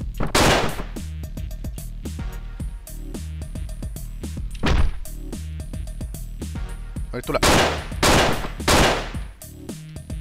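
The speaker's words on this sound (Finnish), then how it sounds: "nyt mulla on tämmönen uusi pistooli" Sharp pistol shots crack out in quick bursts from the video game Hotline Miami, mixed with thuds and impacts over steady game music, while someone talks over the action.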